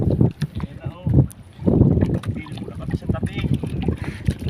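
Strong southwest monsoon wind gusts buffet the microphone on a fishing boat at sea off Oriental Mindoro, with loud rumbling bursts that rise and fall.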